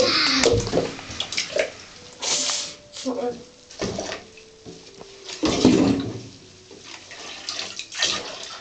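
Water sloshes and splashes in a bathtub in uneven bursts, close and fairly loud, while a child and an adult talk in between the splashes.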